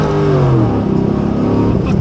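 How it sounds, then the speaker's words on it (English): A car engine with a billet build revs hard while a tire spins, a loud rising-and-falling mechanical roar that breaks into a rougher, pulsing note partway through, close to the listener. "Yeah, that was it spinning the tire."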